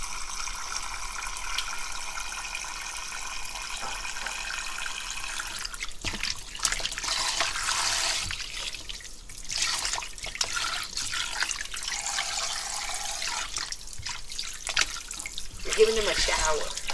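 Oxtail being rinsed under a running tap, a steady broadband wash of water with splashing and handling noises throughout, close and moderately loud.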